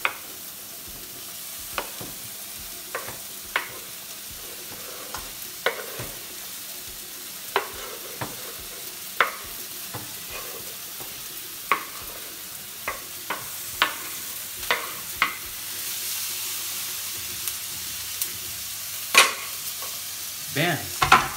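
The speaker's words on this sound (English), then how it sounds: "I'm gonna start sauteing all my veggies" Vegetables sauté in a pan on a stovetop, a soft steady sizzle punctuated by sharp spatula taps and scrapes every second or so, close by, with a louder clatter near the end and no speech.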